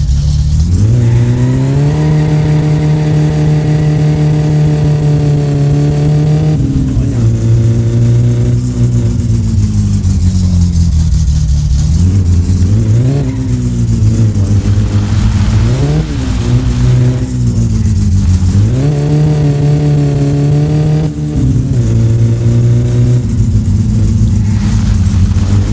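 An SR20 car engine in the driving game My Summer Car revs repeatedly, rising and falling through the range with near steady loud droning between pulls, close throughout and without talk.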